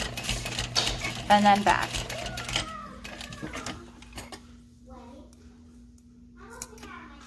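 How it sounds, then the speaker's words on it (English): A sewing machine with a zipper foot stitches across backpack hardware at stitch length 4 in a short close burst of rapid mechanical chatter, then stops as someone speaks. "I'm going to use a 4 stitch length and sew across"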